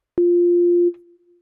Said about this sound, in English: the sine wave is the most basic and clear waveform